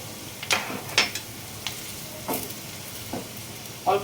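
Chili powder and cumin fry in hot oil with a steady soft sizzle, broken by several spoon scrapes and stirring knocks against the pan, close and moderately loud.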